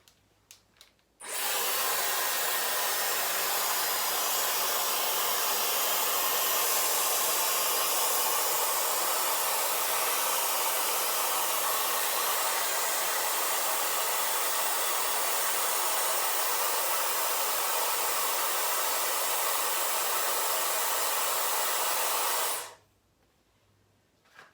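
A Dyson AirWrap blows air to dry hair, a loud, steady, broadband whoosh that starts abruptly, holds constant for about twenty seconds close to the listener, then cuts off sharply.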